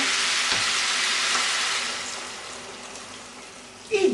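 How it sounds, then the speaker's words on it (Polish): Water poured into a hot pan of frying pork neck hits with a loud, hissing sizzle that slowly settles into gentle bubbling, followed by a brief clatter or voice at the end. "Podlewamy wodą tak, aby mięso było zakryte"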